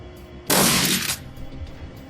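A short, loud burst of gunfire from Shadowrun: Dragonfall, a dense crackling volley lasting about two-thirds of a second before trailing off into quieter background sound.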